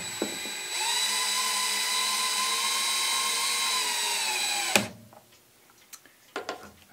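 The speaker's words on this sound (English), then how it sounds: "then I can drill the rest of the holes" A power drill bores holes in scrap wood for a clock, whining at a steady high pitch for about four seconds before stopping abruptly, followed by quiet clicks and handling noises up close.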